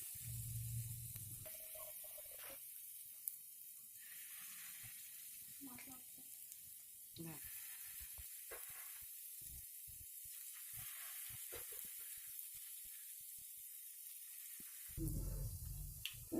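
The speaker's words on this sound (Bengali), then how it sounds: "এবার আমরা একে একে এর মধ্যে তালের বড়াগুলো দিয়ে দেবো।" Palm fruit fritters (taler bora) sizzle steadily in hot oil, a continuous hiss with occasional spatters and soft clinks, louder bursts at the start and end as batter drops in.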